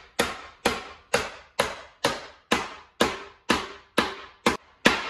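Ten evenly spaced sharp metallic knocks as Ford F350 sheet metal is worked to remove small dents, each strike ringing briefly before fading, close and distinct with no talk.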